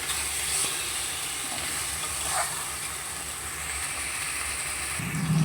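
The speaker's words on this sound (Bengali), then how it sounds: "এবারও আদা জিরে বাটাটা দিচ্ছে, ভালো করে আমি মশলাটাকে কষিয়ে নেব।" Ginger-cumin paste sizzles steadily as it is stir-fried in a pan with onions for a Bengali home-cooked dish, a continuous hiss that swells slightly louder near the end.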